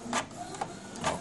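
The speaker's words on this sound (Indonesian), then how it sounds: "Kita print balik. Cuba check printnya." An inkjet printer fitted with a continuous ink supply system prints, its print head carriage giving three short whirring sweeps with mechanical clicks between, close and clear without speech.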